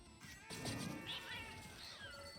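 Cats meowing and caterwauling, with several drawn-out, rising and falling yowls and meows at moderate loudness over a steady low background hum.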